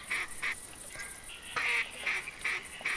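A flock of ducks calling in theHunter Classic, repeated nasal quacks and honks in an irregular series, fairly close and loud against a faint outdoor background.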